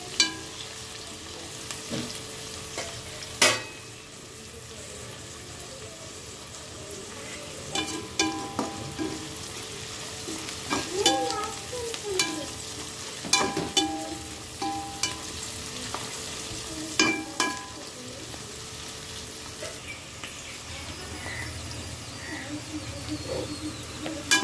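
Onions, green chilies and whole spices such as cinnamon and cloves fry in oil for a mutton curry, a steady low sizzle with scattered clinks and scrapes of stirring throughout, fairly quiet and close, with no voices.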